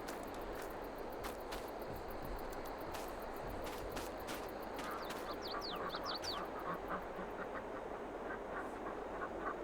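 Ducks quack softly in Farming Simulator 22, several scattered calls set over a steady, noisy game ambience, with a few sharp clicks and chirps mixed in and no speech.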